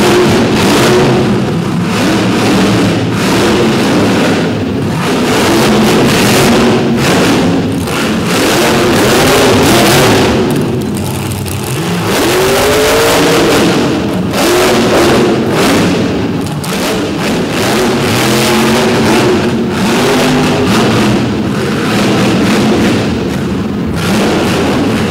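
A big Jeep from Ohio revs and growls through a destruction derby at an all-star show in Davie, its engine rising and falling over a loud, continuous crowd and arena din with scattered thuds.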